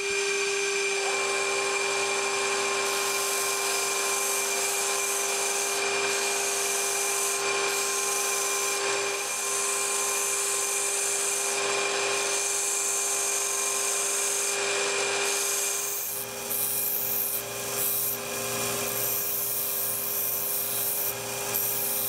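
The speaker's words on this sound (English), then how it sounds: "I'm going to cut off all of this excess and then go in and file and sand the tool" A handmade wax carving tool is filed and sanded against a steady mechanical whir, a continuous close rasping grind that roughens and intensifies toward the end.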